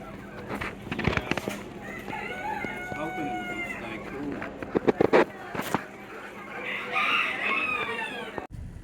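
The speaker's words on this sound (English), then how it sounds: "Got all these little birds." Chickens and roosters at a poultry show cluck and crow in a busy hall, with several birds calling at once near and far, while people talk in the background.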